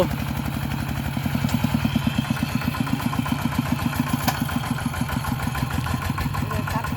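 A walking tractor's small single-cylinder engine chugs steadily nearby, its fast, even putt-putt pulses continuing throughout at constant loudness.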